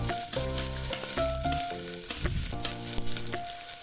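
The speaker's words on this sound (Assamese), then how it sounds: "এতিয়া মই ইয়াত কুটি থোৱা পিঁয়াজখিনি দি দিম।" Chopped onions sizzle loudly in hot oil in a pan while cooking chole, a dense continuous frying hiss, close and steady throughout, with faint tonal clinks layered over it.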